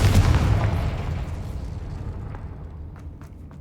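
A Confringo fire spell blast in Hogwarts Legacy, a loud booming explosion that hits hard at the start and rolls off into a long, fading rumble with a few faint crackles near the end.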